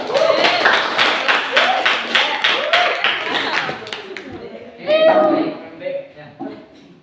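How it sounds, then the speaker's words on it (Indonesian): Students in a classroom give a round of applause, with dense clapping for about four seconds, then children's voices and chatter as it fades. "Sekali lagi berikan tepuk tangan dong."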